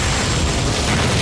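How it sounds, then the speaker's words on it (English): A TV soap explosion at a joinery on a cobbled street erupts as a dense, loud, continuous roaring blast that fills the brief moment with no voices. "an explosion at the joinery led to an unfortunate opening in the bridge"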